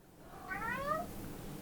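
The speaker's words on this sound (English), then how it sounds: "Sorry, that's my cat." A cat gives a single clear meow of about half a second, close and moderately loud indoors, alone without talk.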